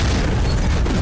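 A grenade blast in The Walking Dead, a loud deep sustained boom filling the whole moment with dense rumbling roar.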